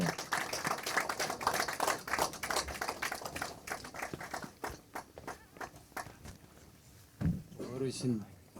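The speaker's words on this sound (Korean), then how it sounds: "우리 성호 스님 박수로 좀 맞이해 한번 해주십시오" Audience clapping to welcome a monk to the stage at a book launch event, brisk and irregular at first, thinning out toward the end as a voice begins speaking over the last claps.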